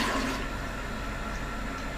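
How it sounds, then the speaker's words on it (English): A toilet flushes nearby, a steady rush of swirling water that holds loud and even for about two seconds with no voices. "Done. Flush."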